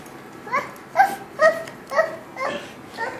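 Female puppy giving a series of six short whiny yips and whimpers in an even rhythm, close and fairly soft.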